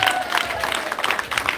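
An audience at a children's home birthday clapping, a dense burst of applause from a group, close and fairly loud throughout.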